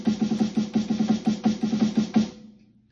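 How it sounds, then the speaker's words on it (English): Rapid drum strokes roll along evenly, with quick doubled 32nd-note hits slipped into a 16th-note pattern, then a short ring-out at the end. "you could double the E of every fourth 16th note"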